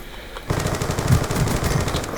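Rapid machine-gun fire in Black Ops 2, a loud close burst of rattling automatic shots that starts abruptly and runs continuously to the end.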